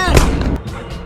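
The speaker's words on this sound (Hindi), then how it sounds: "ये असली गोली चली थी क्या?" A single loud, close gunshot with a heavy boom that decays over about half a second, followed by rumbling echo.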